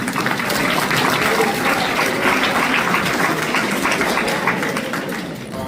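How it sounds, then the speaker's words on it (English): Crowd at a school sports gathering giving the coaches a round of applause, a broad, steady wash of many hands clapping at a distance, sustained without pause. "Give all the coaches a round of applause."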